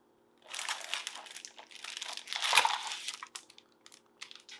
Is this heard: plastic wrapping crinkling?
yes